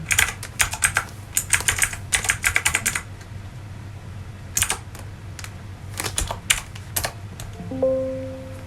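Someone types on a computer keyboard nearby, with rapid bursts of key clicks, a pause, then a few scattered keystrokes, followed by a brief tone at the end.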